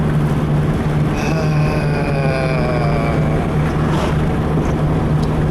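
A car engine runs with too much boost, giving a loud, constant droning roar that holds steady throughout, close by and with no one speaking.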